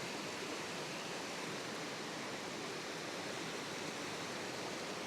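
River water rushes steadily at Ruskebe Waterfall in Kenya, a constant broadband hiss of flowing water over rocks, even and unbroken, with no voices.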